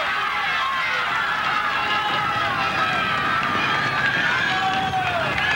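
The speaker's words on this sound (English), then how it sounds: "Just listen to that crowd." A large roadside crowd at the 1996 Vuelta a España in an old Spanish city, producing a dense, continuous roar and cheering as cyclists pass, with faint commentary beneath.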